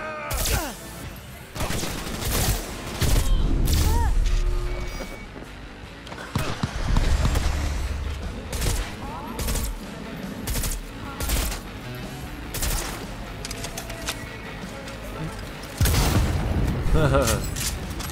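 Gunfire in Cyberpunk 2077 during a street assault: repeated loud bursts and single booming shots spread across the scene, mixed with game noise and voices talking in between.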